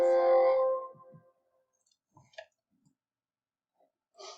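A few light, separate computer mouse clicks sound close and fairly faint, spaced irregularly in quiet after a brief tonal sound at the start.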